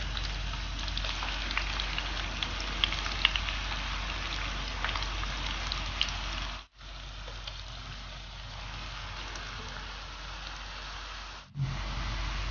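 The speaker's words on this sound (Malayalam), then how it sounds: "ഇതിലേക്ക് സവോള വറുത്ത് കോരാനുള്ള സവോള" Sliced onions frying in sunflower oil in a pan, a steady dense sizzle with fine crackles, loud and continuous, with two brief dropouts.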